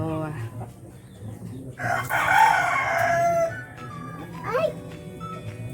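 Backyard hens cluck around a new laying spot while a rooster crows loudly once midway. Lower clucking continues before and after the crow.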